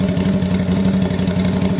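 A custom Kasiar Ruby motorcycle built in Harley-Davidson style idles steadily close by, a low, even engine thrum with a regular pulsing beat and no voices over it.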